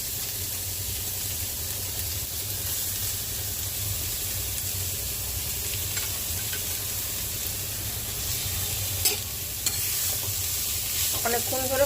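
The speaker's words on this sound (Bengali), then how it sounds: "গাজরগুলো একটু ভাজবো।" Grated carrots frying in ghee for gajar halwa, with a steady close sizzle and the scrape of stirring against the pan throughout.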